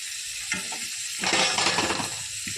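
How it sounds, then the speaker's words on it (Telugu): Okra fries in a pan for a coconut okra stir-fry, giving a crackling sizzle that swells into a louder hiss at the midpoint, with short scraping stirs. "బెండకాయ వేపు చేస్తున్నాను."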